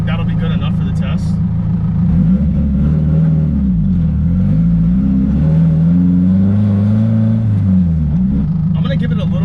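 A Nissan SR20 engine revs during warm-up, close and loud, with its rumbling note swelling and dropping in repeated blips of throttle.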